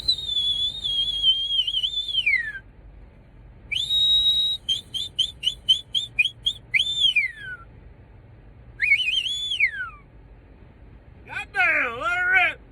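Person doing loud, piercing whistles at close range: a long falling whistle, then a rapid run of short chirps, then more sliding calls with pauses between them.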